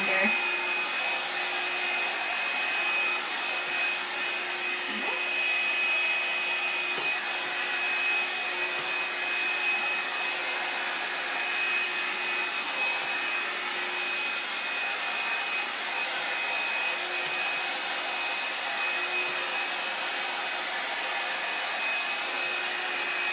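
A Revlon One-Step round brush hair dryer runs continuously, a steady loud whirring blow with a constant motor whine and no pauses throughout.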